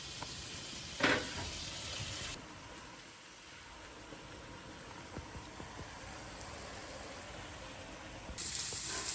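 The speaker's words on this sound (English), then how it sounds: "we're gonna roast our chiles güeros with our onions on a separate pot" Chiles güeros and onions roasting in bacon fat in a pot, a soft steady sizzle and hiss with a few faint clinks, fairly quiet and without talk.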